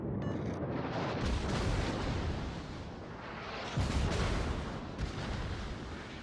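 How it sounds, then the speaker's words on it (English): The battleship Kreml firing its shells in World of Warships, deep booming salvos rolling into a heavy sustained rumble, with a fresh loud blast surging partway through before settling back into a dense roar. "And that was a nice citadel. Shooting south can always be a bit trollish, but this time the shells were with me"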